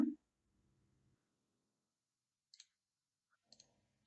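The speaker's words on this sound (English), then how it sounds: "double click on the marker" Computer mouse clicked while working in a spreadsheet, several faint, sharp clicks including quick doubled pairs after a brief murmur of speech, mostly near-silent.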